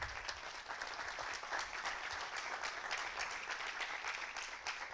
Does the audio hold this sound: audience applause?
yes